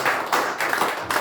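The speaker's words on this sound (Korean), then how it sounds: "우리 감사의 박수 드리겠습니다" A congregation at a December church service for a Christian alumni group claps in thanks, giving a few rhythmic bursts of hand claps close by.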